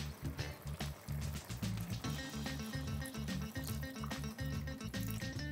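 Water poured into a pot of horse gram pulao, a continuous close burbling, gurgling stream that keeps up for several seconds.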